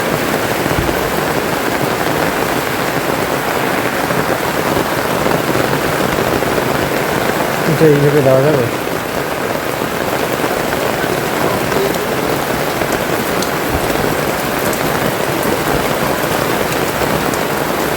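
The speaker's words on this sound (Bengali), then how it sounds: "এরকম বৃষ্টি চলে এসছে একদম।" Heavy rain pours down steadily over a village, a dense continuous hiss of drops on surfaces throughout, with a brief spoken question partway through.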